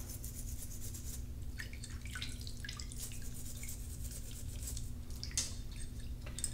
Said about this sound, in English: we want to make sure that we get in here and scrub all of these